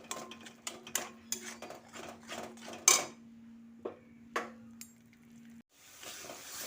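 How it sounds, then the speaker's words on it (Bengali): Turmeric and Kashmiri chili spice paste being stirred and fried in a pan for a hilsa fish dish, with repeated scraping clinks of a spoon against the metal and a soft sizzle underneath, plus a steady low hum. "এবার মশলাটা ভালো করে কষিয়ে নিতে হবে।"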